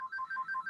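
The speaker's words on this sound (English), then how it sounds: "Have to excuse my phone's going nuts here." A mobile phone ringtone plays a quick, repeating two-tone electronic trill, faint and steady, with no one talking over it.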